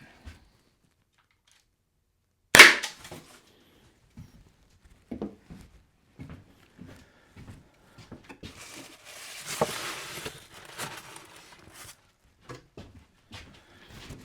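A Byrna less-lethal launcher fires a single sharp, loud crack during a penetration test, followed by faint scattered handling clicks and rustles.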